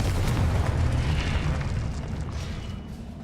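A Confringo blasting spell from the Hogwarts Legacy video game gives a loud, dense explosive boom that rumbles heavily through the low end and slowly tails off over a few seconds, with no voices.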